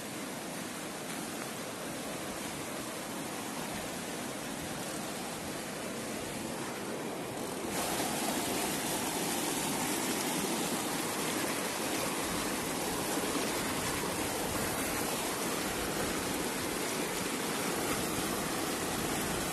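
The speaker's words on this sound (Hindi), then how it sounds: "पानी का फ्लो बहुत तेज है भाई" Fast-flowing floodwater rushes along a swollen stream, a dense steady roar that swells slightly louder partway through and carries on with no voices.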